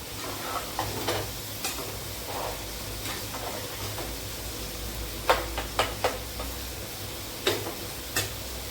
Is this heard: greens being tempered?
yes